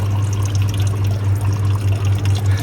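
Steady flowing and trickling water from a small solar-powered garden pond pump running in weak English sunlight, a constant close wash with no voices.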